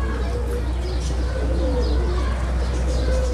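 Kasni pigeons, high-flying birds kept by a fancier in Jaipur, coo steadily in a low murmur over a constant low hum, with faint chirps scattered through.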